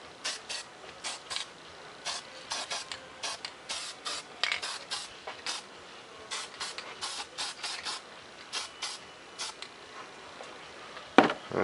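An aerosol spray can lays another quick coat of paint on a foam model of a Micro X-47B tailless drone in a long run of short, crisp hissing bursts with brief gaps between them. A sharper clatter comes near the end.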